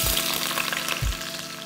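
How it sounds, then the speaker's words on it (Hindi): Onions browning in ghee for Punjabi dal gosht hiss in a loud, dense sizzle, with a couple of soft low knocks from the pot over the brief moment. "आधे प्याज को हम ब्राउन कर रहे हैं"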